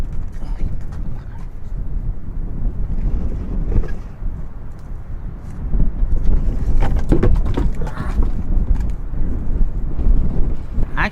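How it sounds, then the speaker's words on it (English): Strong outdoor wind buffets a microphone during a drone unboxing, with gusty low-frequency rumble that swells and ebbs and grows stronger toward the end. "Sorry, it's so windy out here."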